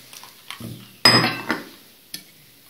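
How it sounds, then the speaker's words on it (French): Chopped parsley being mixed into an onion tart filling with a utensil, with a few close scrapes and one sharp clink against a bowl, brief and otherwise quiet. "Vous allez mélanger le tout."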